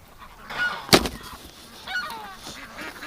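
Ducks outdoors in winter, offered a treat of squash, give loud honking, goose-like calls with a sharp burst near the start and softer calls after, close to the listener.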